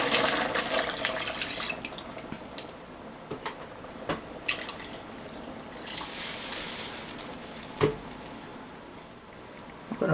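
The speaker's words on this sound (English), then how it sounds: "put water in there." Water runs and splashes steadily into a cooking pot, with occasional clinks and knocks over the continuous rushing flow.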